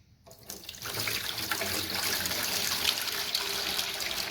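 Water pours steadily from a tap into the base of a steam-fogging aircon cleaning machine, a continuous splashing gush that starts abruptly and stays at an even level throughout.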